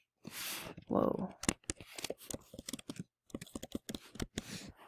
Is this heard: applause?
no